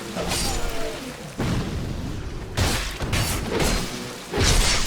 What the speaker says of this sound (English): You see the bombs that are coming down on me from this asshole up here